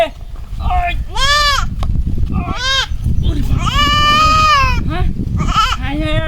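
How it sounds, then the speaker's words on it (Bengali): A single goat bleating loudly and close by, several long wavering cries in quick succession with short pauses between them. "আমার একটা মাত্র ছাগল এটা গাছাত গেছে কাদু"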